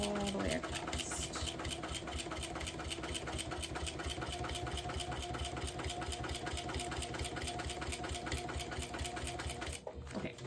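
Sewing machine stitching a seam across a tote bag, a continuous loud, rapid rhythmic hum that runs steadily for about ten seconds before stopping abruptly near the end.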